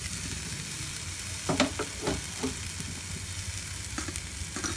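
Sweet potato pieces fry in a pan with a steady low sizzle, broken by a few brief scraping clatters as the pieces are turned, all fairly quiet with no talking.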